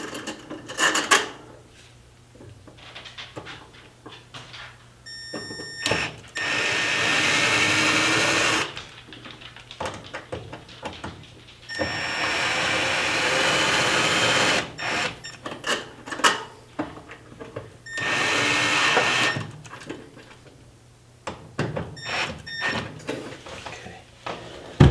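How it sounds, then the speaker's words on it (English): A power drill tightens screws on a light fixture in several bursts of a few seconds each, separated by clicks and handling noises, close and fairly loud. "Don't over tighten it with the power tools."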